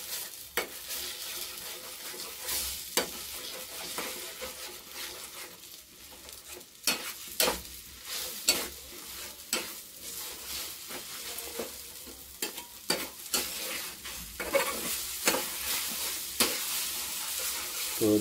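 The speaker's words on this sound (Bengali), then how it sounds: "ডিমটা ভালো করে ঘেঁটে নিচ্ছে। ডিমটা দিয়ে কন্টিনিউ নাড়াতে হবে" Beaten egg with potato stirred and fried in a pan for a home-style egg-potato dish, giving a steady close sizzle broken by repeated utensil scrapes and clinks throughout, with no one talking.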